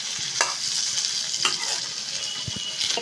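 Capsicum and chopped tomato stirred in a hot pan, a steady bright sizzle with a few scraping strokes of the spoon, close and alone with no voices.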